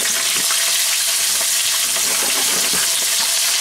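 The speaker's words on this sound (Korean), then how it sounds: "기름 좀 두르고 양파를 먼저" Onions frying in oil in a pan, a loud, dense, continuous crackling sizzle close up with no pauses.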